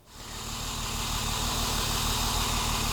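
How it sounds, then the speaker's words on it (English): A BMW M1 engine catches and settles into a steady, low idle, a constant rumbling hum with no voices. "We've started the engine up now."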